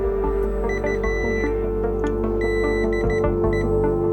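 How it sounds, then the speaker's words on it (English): Short high electronic beeps from a motor driver with failed IGBTs repeat over a steady humming drone, spaced irregularly and moderately loud throughout. "short, Beeping noises"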